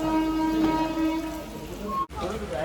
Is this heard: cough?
no